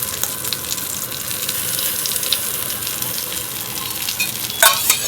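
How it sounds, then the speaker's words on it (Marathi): Potato cutlets frying in a shallow layer of oil in a pan, a continuous even hiss with faint crackle, ending in a short sharper burst of sizzling. "मी अशा आकाराचे कटलेट केलेले आहेत ते मी तेलात फ्राय करून घेणार आहे"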